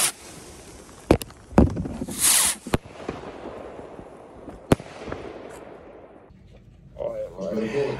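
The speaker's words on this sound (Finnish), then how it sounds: "melkein viimeiset raketit ammuttu" Firework rockets launch outdoors in snow, with several sharp bangs and whooshing hisses spread irregularly across the span, one loud crackling burst near the middle, and faint voices toward the end.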